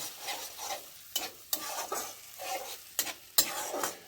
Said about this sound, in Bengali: দই দিয়ে একটুখানি নাড়াচাড়া করব।